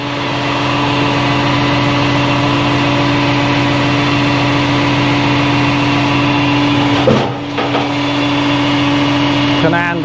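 A log splitter's engine runs at a steady idle close by, droning evenly throughout with a brief dip partway through.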